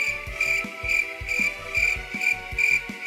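A cricket chirping sound effect loops steadily, with a high, constant trill and soft rhythmic pulses underneath, loud and alone.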